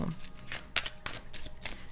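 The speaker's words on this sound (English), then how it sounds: "They said shuffle one more time." Tarot cards are shuffled at close range for a reading, giving a short run of soft papery riffles and taps over a low, steady background.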